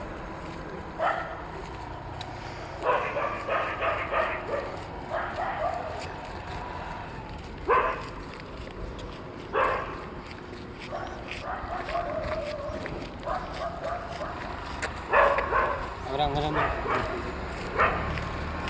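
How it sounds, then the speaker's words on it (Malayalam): An unfamiliar pack of territorial dogs barks in repeated bursts at a moderate distance, several yips and barks overlapping across the stretch, with someone talking in between. "ഇതൊക്കെ കുറേ പട്ടികൾ, ഇതൊന്നും നമ്മളുടെ പട്ടികളല്ല"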